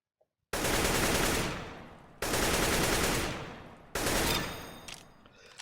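Three long, loud full-auto bursts from an assault rifle in CS:GO, each a dense rapid stream of shots that fades out before the next spray begins, with no voices.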